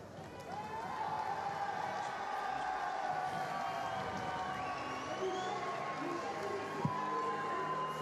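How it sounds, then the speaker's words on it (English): Large arena audience at the STIHL Timbersports team world championship in Toulouse, a steady roar of cheering and clapping for team Italy that holds loud and constant, with voices mixed in. "So big applause from the audience for Italy there."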